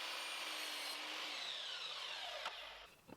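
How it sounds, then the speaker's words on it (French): A wooden support board is sawn to length, a steady continuous rasping of the blade through the wood with no pauses, close and fairly loud, fading out at the end with no one talking. "Il faut donc que je coupe la planche de soutien dans une longueur de 38 cm."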